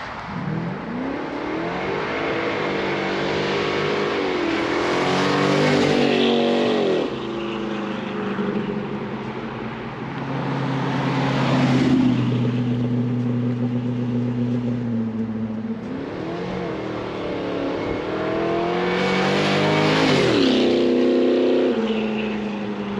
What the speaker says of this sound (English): hold the brake and the gas at the same time, and you can launch this thing hard